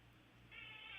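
A pet cat meows from nearby at home, one drawn-out, rising cry that starts midway and grows louder, over a quiet room hum.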